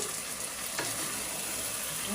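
Chicken pieces fry dry in a pot with no water added, a steady close sizzle with a brief stirring scrape near the middle.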